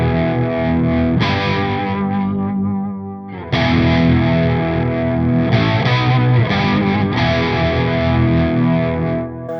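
Electric guitar chords run through a Boss MO-2 Multi-Overtone pedal with light distortion, adding shimmering, synth-like overtones. The chords sustain and swell, loud and close, with no talking.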